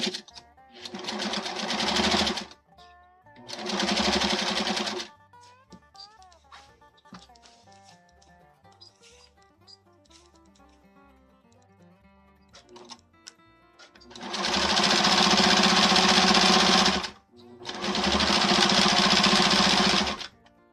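A sewing machine stitches rail fence quilt pieces in two pairs of steady whirring bursts, close and loud, separated by a long quiet stretch of faint handling and tonal noises.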